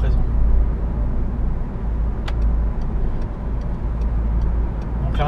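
Engine of a 2005 Peugeot 206 SW 1.6 pulled to higher revs, a loud steady drone heard from inside the cabin with faint ticking clicks, while someone talks over it.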